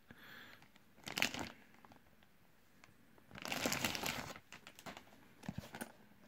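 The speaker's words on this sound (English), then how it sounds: "So now let's take this case from its plastic bag." A game cartridge case is pulled from its plastic bag, giving bursts of close crinkling and rustling plastic separated by quiet pauses, with no voices.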